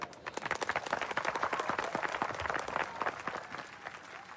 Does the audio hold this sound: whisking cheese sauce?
no